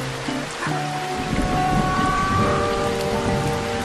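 Steady rain and rumbling thunder in the 2014 PS4 video game Stick It To The Man. A dense, constant hiss of rain runs throughout, with a rolling thunder swell and some synthetic tonal sounds partway through. No one speaks.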